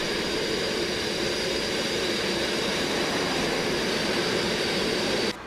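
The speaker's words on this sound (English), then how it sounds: "the aircraft is extremely loud, so be warned" Concorde jet engines roar from outside the aircraft, a loud, continuous, dense rumble and hiss that holds steady before dropping off abruptly at the very end.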